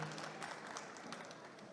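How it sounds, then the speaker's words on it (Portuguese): Audience applause at an accounting conference, a faint, steady patter of many hands clapping in a hall, continuous and even throughout with no voices over it. "Por gentileza, uma salva de palmas, pessoal."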